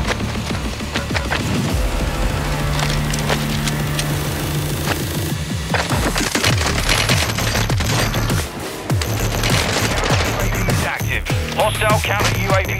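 Rapid gunfire from the video game Warzone 2, with dense bursts of automatic shots, sharp single cracks and clattering mechanical weapon sounds, all loud and close and continuing almost without pause.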